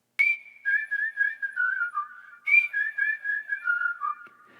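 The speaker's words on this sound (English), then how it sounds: "In this track is this whistle melody." A person whistles a melody for a commercial music track, two close, clear phrases of sliding, warbling notes, each starting high and stepping downward, heard alone.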